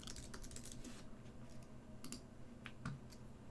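Typing on a computer keyboard while entering redirect URLs into a website form, a steady run of quiet, fairly close key clicks with short pauses and a few louder presses.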